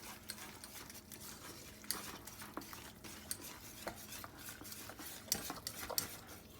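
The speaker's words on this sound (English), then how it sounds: "Now I'm gonna incorporate all this by whisking." A whisk works through a Mexican cheese sauce with green chilies in a pot, making quiet, rapid metallic scraping and clicking with occasional sharper taps against the sides, close and faint, with no talking.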